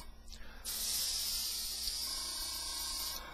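A steady, fine hiss of an airbrush spraying continuously for a few seconds after a brief start, close and even.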